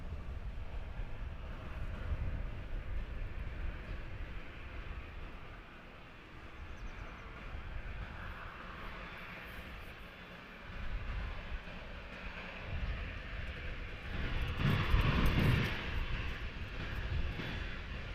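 A passenger jet rumbles on the runway at Princess Juliana Airport, a low, distant, steady roar that swells slightly toward the end, with no speech.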